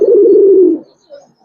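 A Giribaz aluminium silver pigeon gives one loud, close, throaty coo lasting under a second, then a shorter, softer coo after a brief pause.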